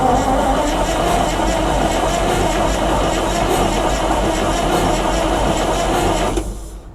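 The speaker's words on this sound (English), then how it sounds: "Okay, let's crank the engine." Onan 884 cubic inch V8 generator engine cranking, a loud rapid mechanical whirring and clatter that holds steady for several seconds, then cuts off and fades near the end.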